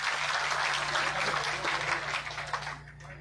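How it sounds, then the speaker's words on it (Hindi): Clapping from an audience at a village gathering greets a politician taking the stage, a loud, full burst that thins out toward the end, with a steady low hum underneath. "जोरदार तालियों के साथ एक बार इनका स्वागत करें"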